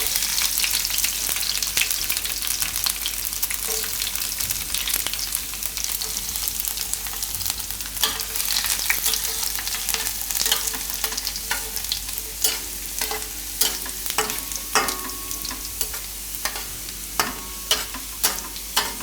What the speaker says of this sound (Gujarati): આ રીતે થોડુંક લાલ થવા દેવાનું જીરું ને લસણ.